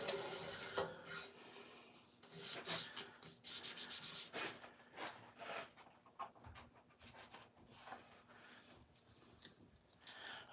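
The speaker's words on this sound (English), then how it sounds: "it just gives you an even finer finish, a finer sanded finish" Wood being sanded on a lathe, working up to 320 grit, with a close, steady rasping rub that comes in uneven bursts and a few quick rhythmic strokes, loud at the start and then easing off.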